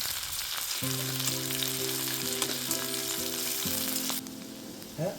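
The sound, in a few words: bathua greens (saag) frying in a pan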